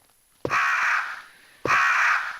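Crows in the video game Resident Evil give two harsh, separate caws about a second apart, close and clear against near silence.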